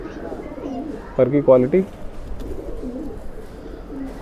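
A Madrasi breeder pigeon gives a short burst of throaty cooing at close range, a few quick pulses in a row, while someone talks over it.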